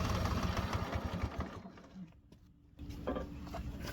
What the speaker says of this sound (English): Start the engine for 30 seconds to fill the filter.